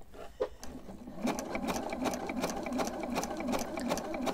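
A sewing machine stitches a fabric-wrapped rope trivet, a steady rapid mechanical clatter of needle strokes that starts after a brief pause and keeps an even rhythm, close and moderately quiet.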